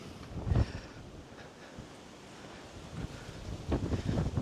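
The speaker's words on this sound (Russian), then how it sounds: "Ветер." Gusts of wind beside a vineyard at a Yalta sanatorium in Crimea thump and rumble against the microphone, a strong burst early, a quieter lull, then renewed buffeting toward the end.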